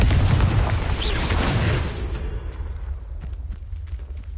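Confringo blasting spell explosion in Hogwarts Legacy, a loud close boom with a rumbling tail that fades over a few seconds, with no speech.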